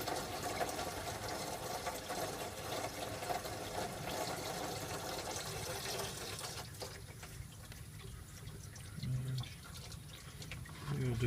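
Coolant pouring from a hose into a drain pan beneath a 2003 Chevrolet Suburban during a thermostat job, a steady liquid rush that drops away partway through, leaving quieter trickles and a few faint clunks.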